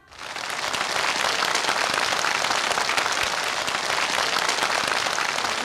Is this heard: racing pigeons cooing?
no